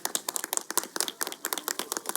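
Several people clap hands in a quick, uneven burst to set off a clap-activated fountain at a garden in Udaipur, Rajasthan. The claps are sharp, close and overlapping, with no talk.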